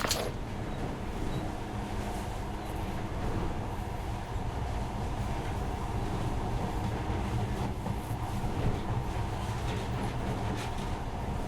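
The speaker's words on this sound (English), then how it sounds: "But now, this monorail seems magic, doesn't it?" A monorail train runs along in the game Metro Last Light, a continuous low rumbling hum with faint mechanical rattles, steady and moderately close, with no voices.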